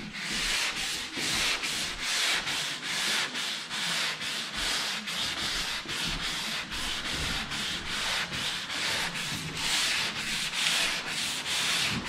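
A curved wooden surface is sanded by hand in a steady rhythm of rasping back-and-forth strokes, close and continuous, about two strokes per second, with no voices.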